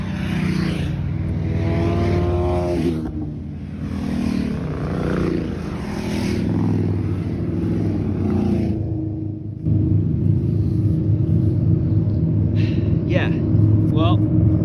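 Motorcycle engines rumble and rev as several bikes pass nearby, swelling and fading, with someone talking briefly over the noise.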